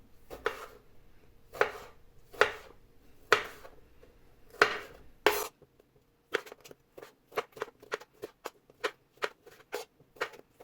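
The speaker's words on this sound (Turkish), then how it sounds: "Domateslerimi doğruyorum." Sharp knife strikes chopping tomatoes on a cutting board, first slow and spaced with firm chops, then quicker, lighter, evenly rhythmic cuts; close and alone.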